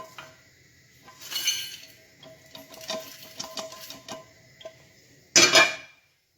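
Cooked vegetable biryani ingredients are scraped and tipped from a pan into a bowl, giving scattered clinks and metallic scrapes, ending in a sharp louder clatter near the end; no talking.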